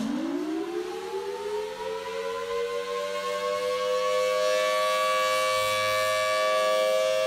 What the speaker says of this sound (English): That is the Federal Signal Thunderbolt siren.